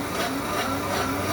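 A Vitamix V1200 blender runs steadily, a loud, continuous motor whir with a broad grinding hiss that holds even and unbroken throughout.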